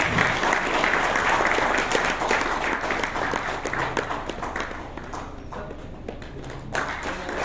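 Steady applause from an audience at a sustainable energy forum, after a talk on reducing carbon footprints in industry. Dense, continuous clapping from many hands that thins slightly toward the end.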